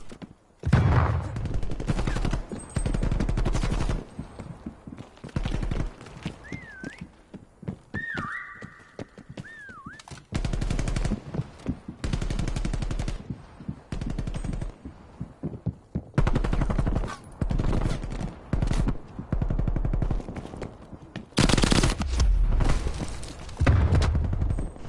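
Rapid bursts of video game gunfire, close and loud, come in dense volleys separated by short pauses, with galloping horse hooves and a neigh mixed in among the shots.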